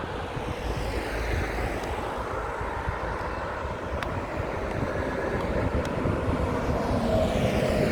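A British Airways Airbus A320neo comes in to land at London Heathrow, its engines a broad, steady roar that swells slightly over several seconds, heard from a distance amid outdoor wind noise.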